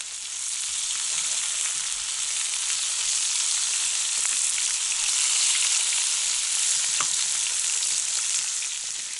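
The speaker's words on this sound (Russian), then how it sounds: "Щука, ребята, жареная сегодня будет." Steady, close sizzling of pike frying in a hot pan, a continuous crackling hiss with occasional sharper pops, no voices.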